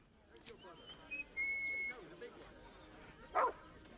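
Scratch the dog from Baldur's Gate 3 gives a short bark or yip and a later brief bark over a low background, with a voice speaking nearby.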